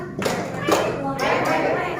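Children play the tepuk bebek duck clapping game, with several close claps and thumps in an uneven rhythm, mixed with continuous chanting and talking voices.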